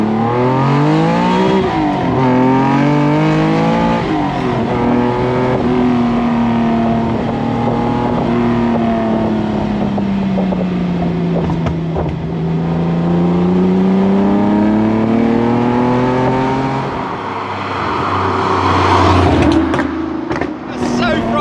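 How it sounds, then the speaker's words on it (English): TVR Tuscan engine revving hard through an acceleration pull, a loud, close, rising and falling howl that sweeps up through the gears with brief dips at shifts and carries on nearly without a break. "let's just do another pull with this mental engine"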